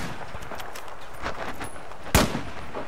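A smart pistol fires in a shooter video game: one sharp, loud gunshot crack stands out near the end over busy game noise and faint scattered pops.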